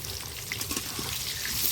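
Potatoes frying in oil with salt and turmeric, a soft, steady sizzle heard close and fairly quiet, with no talk.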